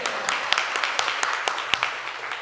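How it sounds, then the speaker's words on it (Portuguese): A congregation claps at a church service, scattered hand claps rising over a soft crowd murmur, moderately distant and fairly light. "Você recebe e pode aplaudir o Senhor."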